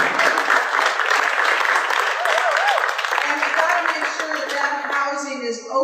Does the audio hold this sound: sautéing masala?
no